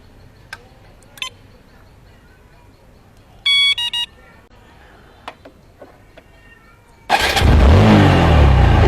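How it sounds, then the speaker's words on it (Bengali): Motorcycle engine, fitted with a remote starter, cranks and catches, then runs steady and loud close by; quieter beeps and clicks from the remote come first. "আমি বাইকটা স্টার্ট দিয়ে দেখাচ্ছি"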